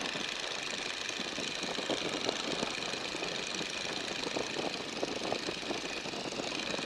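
A light aircraft engine runs steadily in flight during a lesson, a constant moderate drone with a slightly rough, pulsing texture and no talk.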